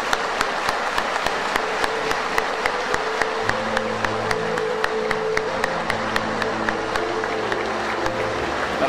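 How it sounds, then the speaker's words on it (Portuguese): Audience applause at a tribute event, steady clapping from a gathered crowd with sharp regular beats running through it, while a low sustained tone enters partway and continues. "Vamos dar uma salva de palmas para o Divaldo."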